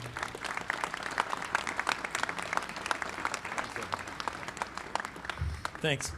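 Applause rises from the crowd at an outdoor memorial ceremony marking the 80th anniversary of the Cocoanut Grove fire, a steady mass of hand clapping with murmuring voices and a brief louder noise near the end.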